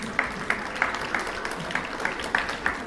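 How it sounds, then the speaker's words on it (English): Audience applause at a third- and fourth-grade school spelling bee: a modest, steady patter of claps with a few distinct sharper hits recurring through the stretch, moderately distant and fairly quiet, with no voices over it. "Give them a round of applause."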